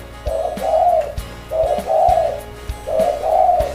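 A dove coos in three repeated phrases, each a soft two-part throaty call, close by with faint background clicks.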